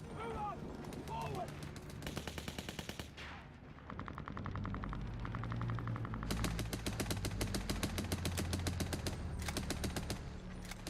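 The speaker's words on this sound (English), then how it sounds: "Each machine gun shoots 6 bullets per second." Rapid machine gun fire from a First World War battle at the Somme, bursts of sharp evenly spaced shots rattling loud and close, with a lull midway before dense continuous firing resumes, over low rumbling background noise and occasional voices.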